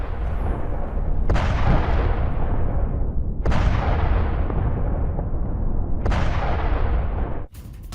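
Heavy bombing in Isfahan, Iran, sends out three loud, booming explosions a few seconds apart. Each hits sharply, then rumbles and decays into a long roar, with no voices heard.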